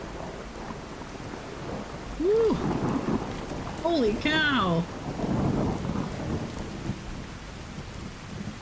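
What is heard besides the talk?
thunderstorm with heavy rain in video game Fallout 4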